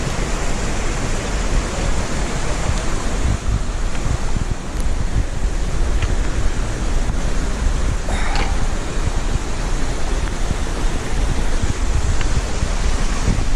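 Waterfalls along the Black Forest Trail, a steady broadband roar of falling water that fills the whole stretch without letup, with wind noise on the microphone mixed in.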